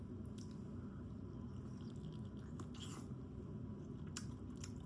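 Fried chicken is chewed close to the microphone, with several crisp bites and crunches over a constant low rumble, and nobody speaks.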